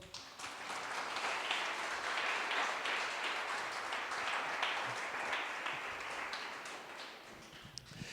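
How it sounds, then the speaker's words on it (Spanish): A church congregation applauds in a sustained, even wash of many hands clapping, fairly faint and roomy, with no talking and no pauses. "Denle un aplauso a Dios."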